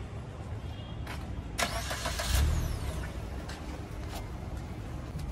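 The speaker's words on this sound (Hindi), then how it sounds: "गाड़ी इंजन स्टार्ट कर देता हूँ मैं एक बार।" A car engine cranks and catches, starting with a short rise in loud, broad rumble, then settles into a steady idle that stays close throughout, with no talking.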